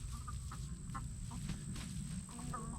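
Backyard chickens, with a rooster named Rudy among them, cluck softly in short scattered calls over a low steady hum, fairly faint and close.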